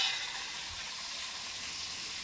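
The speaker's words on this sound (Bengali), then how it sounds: "এখন মাছ ভাজা হচ্ছে" Fish frying in oil in a home kitchen, a steady, close sizzle and hiss that carries on without a break and with no talk.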